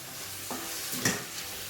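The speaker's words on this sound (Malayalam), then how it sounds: "ഞാനിവിടെ ഫ്ലെയിം കൂട്ടി വെച്ചിട്ട് തന്നെയാണ് വഴറ്റി കൊടുക്കുന്നത് കേട്ടോ." Capsicum and other vegetables sautéed on a high flame, a soft steady sizzle with a couple of quick stirring scrapes, close but faint.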